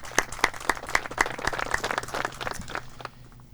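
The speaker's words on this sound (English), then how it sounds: "if we can give all those partners a round of applause" Outdoor crowd at a fire department's AED unveiling in a trailhead park applauds, with several sharp individual claps standing out at the start and then a denser burst that tapers off after about three seconds.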